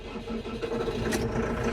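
A new tractor on a farm estate starts from cold, giving a steady, close mechanical engine rumble throughout.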